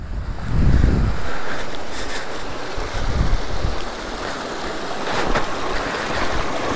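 Pure mountain water of the Po river rushing near its source below Monviso, a steady broadband wash of flowing stream with slight wind buffeting, close and fairly loud throughout.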